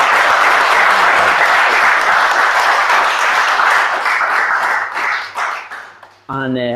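Loud, dense audience applause at a Startup Grind Liverpool fireside chat, sustained for several seconds before thinning and fading out, with a voice starting up at the very end.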